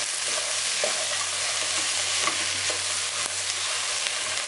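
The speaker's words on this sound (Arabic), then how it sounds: "هنشوح كويس شويه كويسه كده لحد ما الثوم بتاعنا يقدر ويبتدي ياخد اللون بتاعه الاصفر" Garlic sizzling in hot oil in a pan, a steady close frying hiss broken by light clicks and scrapes of stirring, with no voices.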